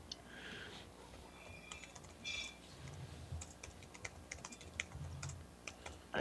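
Quiet, steady keyboard typing with rapid irregular clicks, fairly faint and close, with no talking.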